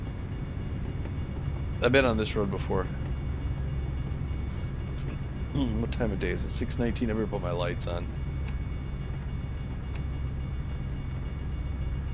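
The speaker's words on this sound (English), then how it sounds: "Not only do they have the train going through, but because it's going into town here and into the yard, it's going slower." A slow freight train rolls through town toward a rail yard in American Truck Simulator, a steady low rumble held under the drive while someone talks over it.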